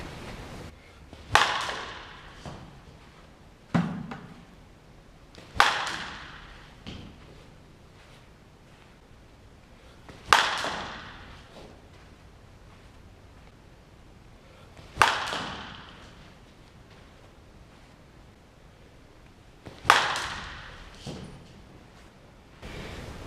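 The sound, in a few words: five swings of a heavily used baseball bat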